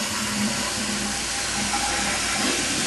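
A toilet flush after a flapper adjustment for water saving: a steady rush and hiss of draining water runs throughout at moderate level, with no talking.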